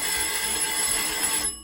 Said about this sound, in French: mais comme la sonnerie ne cessait pas, finit par grommeler.